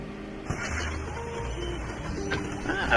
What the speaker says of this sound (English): Next, the machine should dispense a grenade for you.